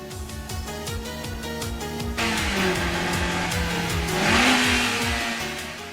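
A Toyota 86's exhaust roars as the engine revs hard during a street race, its pitch dropping and then climbing again in an aggressive, throaty snarl.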